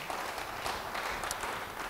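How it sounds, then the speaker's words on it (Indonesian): Church congregation applauding during a sermon, a brief dense wash of clapping at moderate level with no voices over it. "Beri tepuk tangan bagi dia."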